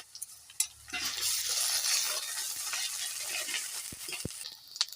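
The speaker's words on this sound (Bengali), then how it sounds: "এই যে দিয়ে দিচ্ছি আদা রসুন বাটা।" Ginger-garlic paste hits hot oil with fried onions in a frying pan during a spicy crab curry, giving a strong steady sizzle with a few scraping stirs and clinks, close and with no talking.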